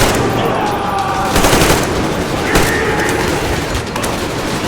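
Rapid automatic gunfire in the Metro Exodus video game at Yamantau, a dense, loud, continuous barrage of overlapping shots with a few heavier booms.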